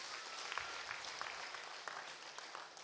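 A church congregation at a Sunday Kikuyu service claps together in a faint, distant, even wash of applause that lasts the whole moment.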